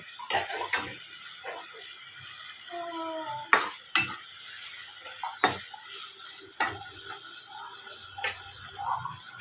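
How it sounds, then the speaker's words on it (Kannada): Ground poppy seed and tomato paste frying in oil for a sprouted green gram sambar, a faint sizzle broken by several sharp clinks and scrapes of a ladle against the pan, with no speech. "ಅದನ್ನು ಎಲ್ಲನೂ ಎಣ್ಣೆಯಲ್ಲಿ ಫ್ರೈ ಮಾಡಿ ಎಣ್ಣೆಲಿ ಚೆನ್ನಾಗಿ ಫ್ರೈ ಆಗಬೇಕು"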